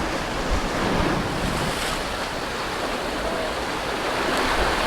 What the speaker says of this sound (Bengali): ঢের পর ঢেউ আসছে